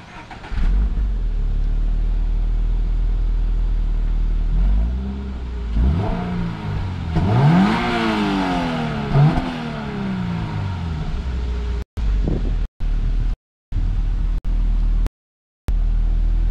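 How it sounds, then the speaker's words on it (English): A 2022 Toyota GR86 engine cranks and fires up, settles into idle, then gives a few sharp rising revs before dropping back, loud and close with no talk. "you want to do a startup clip real quick?"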